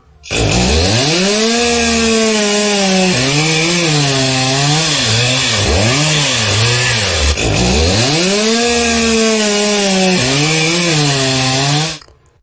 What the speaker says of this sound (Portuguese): Esse som, então, é o som da motosserra, né?